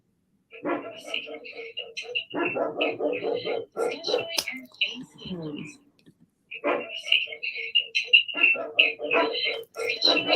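A pet dog barks and yips in bursts indoors, loud and close, with a pause in the middle before the barking resumes.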